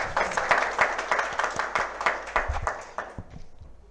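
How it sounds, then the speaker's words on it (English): An audience at a GST summit in Kolkata applauds a chief guest, a steady patter of many hands clapping together for a few seconds before fading out. "I request everyone to kindly give a round of applause and welcome"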